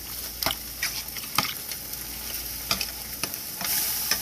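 Green beans seasoned with garlic powder and black pepper cooking down in a pan, with a soft continuous sizzle broken by scattered stirring scrapes and taps, close and moderate in level.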